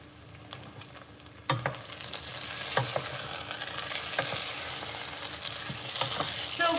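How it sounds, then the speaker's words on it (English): Homemade marinara sauce sizzles and fries in a pan, starting with a sudden loud hiss that settles into a steady crackling sizzle, broken by scraping stirring strokes, close and without speech. "You want to stir it after the sizzling goes down a little bit."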